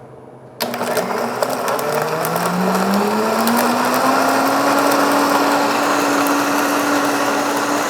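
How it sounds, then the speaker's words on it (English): A blender making a pumpkin spice latte base switches on abruptly and whirs loudly, its motor pitch climbing steadily as the speed rises from low, running continuously without talk. "So now we're gonna add that to our blender base, start it on low, and gradually bring the speed up."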